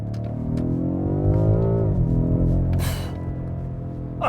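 A BMW M5 Competition supercar engine pulls hard under acceleration while overtaking another car, a loud sustained rising-and-falling drone with a brief whooshing burst near the end, heard from inside the cabin.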